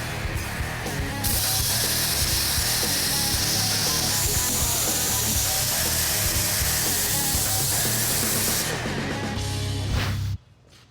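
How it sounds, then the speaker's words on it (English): Power tool trimming the rear wheel-well lip of a '61 Chevrolet Impala, a steady, loud grinding buzz running continuously for about ten seconds in a shop before cutting off abruptly. "Next, Brent's reshaping the radius to match the tires more closely"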